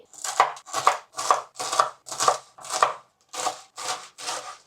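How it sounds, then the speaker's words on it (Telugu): Malabar spinach (bachali) leaves chopped into pieces on a board: nine crisp, evenly spaced knife strikes in a steady rhythm, close and clear, with no voices. "సో బచ్చల కూరను కూడా ఇలాగా ముక్కలు అయితే కోసుకోండి"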